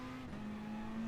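A Toyota Supra race car in the racing game GT Sport, its engine sustaining a brief, steady, fairly quiet tone at constant pitch.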